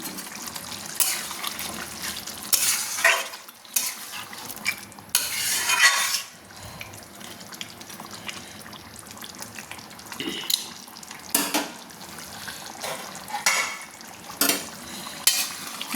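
Chicken simmering with water in a pan is stirred with a metal spoon, giving uneven scraping and clinking bursts over a soft, wet bubbling background, close and fairly loud.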